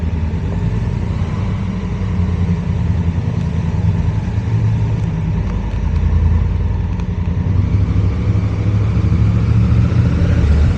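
A motorcycle rolls slowly through a crowded parking lot in Cannes, its engine giving a close, continuous low rumble that holds steady throughout.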